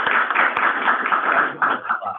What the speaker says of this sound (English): round of applause on that.